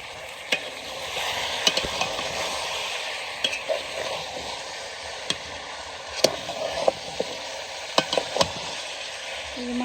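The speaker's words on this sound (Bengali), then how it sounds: "মাংসটা আমি কষিয়ে নিতেছি" Spiced meat being sautéed in butter in a pan over a village stove, a steady close sizzle punctuated by repeated stirring clicks and scrapes.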